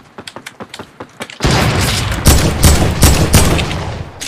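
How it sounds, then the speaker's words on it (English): Gunfire in the Fortnite video game: a rapid run of sharp single shots, then a loud sustained burst of automatic fire punctuated by heavier booming reports, all close and without talk. "Make some noise. Like, shoot at them."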